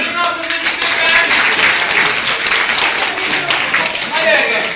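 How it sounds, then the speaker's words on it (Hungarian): Sustained crowd applause for Benjamin after a science demonstration at the Csodák Palotája science centre, a dense, steady wash of many hands clapping throughout, loud and close, with faint voices mixed in. "Óriás tapsot Benjaminnak, köszönjük szépen!"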